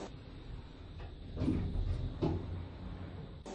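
A KONE Delta SlimLine elevator in Roblox closes its doors with a soft sliding rumble and a couple of dull thumps, heard alone at moderate volume without voices.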